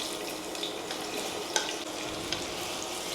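Onion fries in hot oil for chicken biryani, a dense continuous sizzle with occasional sharp clicks of stirring, close and fairly loud.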